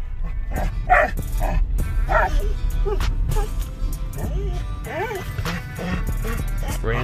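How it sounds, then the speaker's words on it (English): A ranch dog barks and yips repeatedly in close, loud bursts while a person talks alongside it. "You barked at me this whole time."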